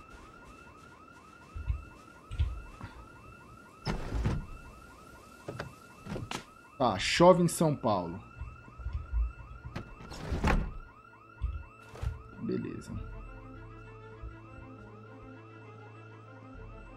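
Car alarm in the zombie survival game Project Zomboid, a steady repeating electronic warble running through the whole stretch, with someone talking over it and scattered clicks and thumps.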